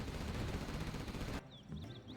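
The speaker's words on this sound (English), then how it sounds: "Gatling cannon trying to take out the supply of Jundiyy." Gatling cannon firing in a Command & Conquer video game, a dense rapid roar of continuous shots that cuts off abruptly, followed by quieter battle noise and faint chirps.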